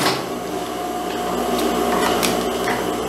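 Sewing machine stitching around a sporty jacket collar, a steady close mechanical whir with light rhythmic ticking from the needle throughout, no voices.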